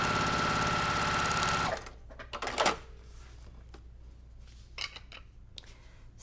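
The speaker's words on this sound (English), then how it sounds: "Let me sew this one." A sewing machine stitches a quilt block in a loud, steady whirring run that stops abruptly, followed by scattered small clicks and handling noises.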